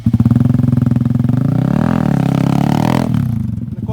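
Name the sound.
stunt motorcycle spinning with the handlebar unlocked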